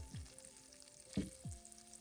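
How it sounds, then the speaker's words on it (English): Shrimp hit melted butter and olive oil in a pan, a quiet close sizzle with a few brief sliding swoops and a soft clatter as pieces go in. "We're going to start putting the shrimp in the melted butter and olive oil."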